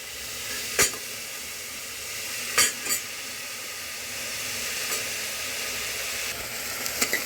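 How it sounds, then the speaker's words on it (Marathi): Spices for mutton paya soup lightly roasting in a pan, a steady soft sizzle and hiss with a few sharp clinks of a spoon against the pan, no voices. "जास्त परतायचंच नाही आपल्याला, थोडंसं हलकं भाजून घ्यायचं सगळं"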